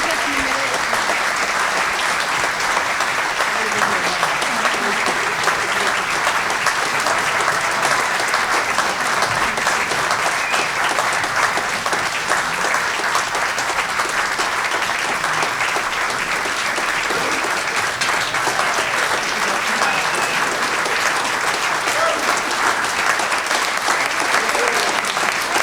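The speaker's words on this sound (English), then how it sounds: "let's hear a big round of applause for these fabulous storytellers" Sustained applause from a live audience at a storytelling event, dense and steady for the whole stretch, with no speaking voice standing out.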